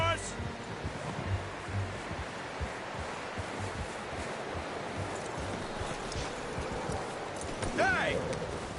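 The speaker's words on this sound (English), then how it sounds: "You should really tether that horse, Arthur." Steady clip-clop of horse hooves on ground in the video game Red Dead Redemption 2, a continuous even rhythm under outdoor ambience and faint voices.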